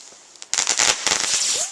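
New Year fireworks burst nearby as a rapid cluster of sharp crackling pops and bangs over under two seconds, with a faint rising whistle at the end.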